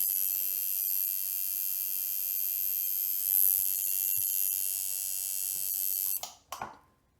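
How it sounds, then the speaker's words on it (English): Steady electric buzz of a tattoo machine running on its power supply, a constant close whine for about six seconds before cutting off, followed by a couple of brief clunks. "Now, I'm going to slowly turn this knob until my tattoo machine"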